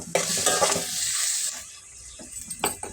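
Onion, tomatoes and green chilies frying in a pan for hotel-style peanut chutney, with a loud close sizzle and a few spatula stirs and knocks against the pan.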